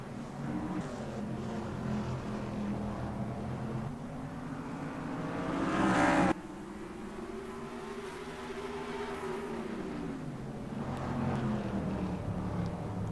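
Race cars in the NR2003 racing game roar off at the green flag of the Smithfield 500 at Martinsville, a steady layered engine drone with a swelling surge near the middle, no voices over it.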